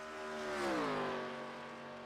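A race car in iRacing roars past on the Talladega superspeedway, its engine tone swelling as it approaches and then dropping in pitch as it moves away, a single continuous pass with no voices.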